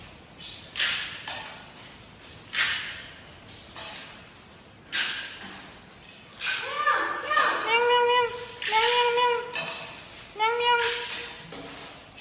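Several stray cats meow over and over, loud and close, with overlapping calls in the second half after a few short scuffing bursts.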